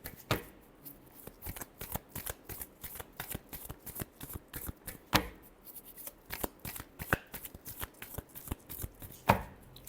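Tarot cards shuffled by hand close up, a steady run of crisp papery slaps and riffles with a few louder snaps, continuing without pause and with no talking.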